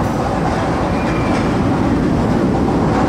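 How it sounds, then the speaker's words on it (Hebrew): A roller coaster plunging below ground rumbles and rattles along its track in a dense, continuous roar, loud and steady for about three seconds. "יש פה רכבת הרים ששי עשה מקודם, שהיא נופלת מתחת לקרקע"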